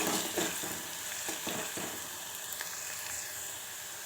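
Thinly sliced onions fry steadily in hot oil for a chicken curry with homemade masala, giving a continuous close sizzle with occasional stirring scrapes and no talk.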